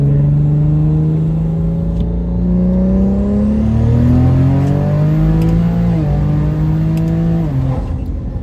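A BMW car with a B58 engine accelerating hard under a full pull, its engine note climbing steadily in pitch and holding a loud, continuous roar for about eight seconds, with no talking.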